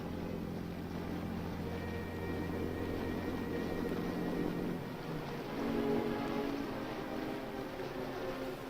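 A small boat motor hums steadily on water during the Korean War, low and somewhat distant, with faint wash and splashing around it.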